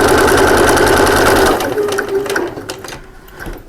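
A domestic sewing machine stitches a fabric double cup holder, a loud rapid mechanical whirr for about a second and a half before stopping, followed by a few faint clicks and handling noises.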